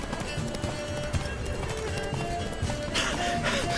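Horse hooves galloping in the video game The Witcher 3: Blood and Wine, a steady rapid clatter under continuous game ambience and music, with a voice speaking briefly.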